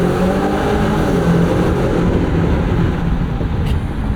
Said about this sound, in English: See, let it downshift itself.